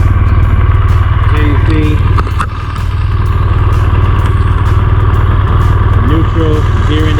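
A motorcycle engine idles with a steady, close, throbbing rumble after being started by push button, while someone speaks over it.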